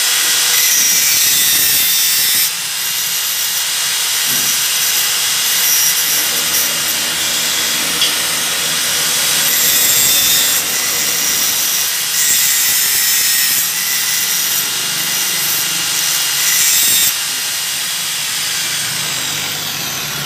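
A grinder wears down the steel balls on a piston pin for a homemade motorcycle bearing puller, a loud continuous high hissing grind that shifts in pitch and pressure as the metal is worked, with no talking.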